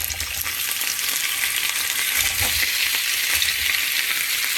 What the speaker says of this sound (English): So I'm going to start frying up the sausage